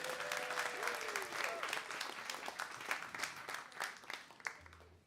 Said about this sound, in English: let's give a round of applause for MartianCraft for supporting the show.